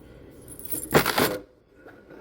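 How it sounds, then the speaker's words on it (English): Keys jangle and clink as they are pulled from a pocket, in a short metallic rattling burst at close range with no talk over it. "Keys."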